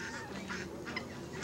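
Geese or similar fowl honking at an orchard farm, several close, repeated nasal honks in quick succession over a brief stretch with no talk.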